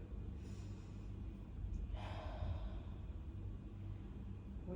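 Slow, deep breaths during a quiet yoga session, two soft audible inhale-exhale gusts over a low steady background hum.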